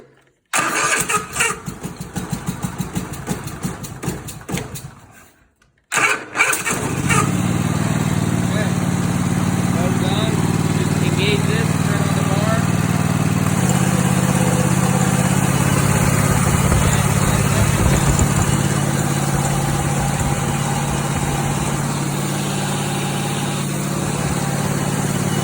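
Lawnmower engine driving a DIY chainsaw mill: pull-start attempts sputter, cut out briefly, then catch and settle into a loud, steady idle drone that runs on alone.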